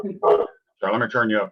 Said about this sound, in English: Excuse my dog. He thinks I'm talking to somebody else.